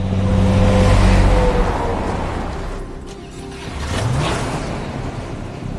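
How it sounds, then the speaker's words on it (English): An old car pulls out on a film set, its engine rumbling steadily and fairly loud with broad road noise, swelling slightly near the end, with no talking. "Now Iris is going to pull out"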